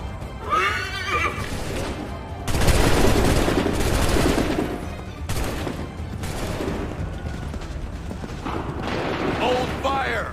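Musket volleys and scattered gunfire crack in Assassin's Creed 3 among loud horse whinnies and hoofbeats. Shouted voices and battle noise fill the scene in bursts.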